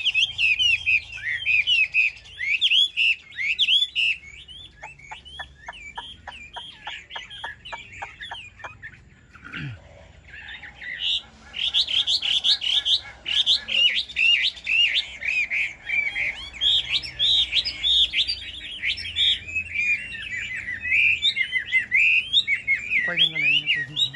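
A caged hwamei, a Chinese laughingthrush sold as a tame fighting bird, sings loud, varied whistled phrases nearly without pause, with a brief lull midway before the song resumes.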